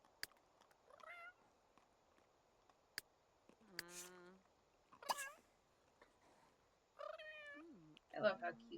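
Cats in The Sims 3 give several short, faint meows spread out over a quiet background with scattered clicks, and one last meow is louder and rising.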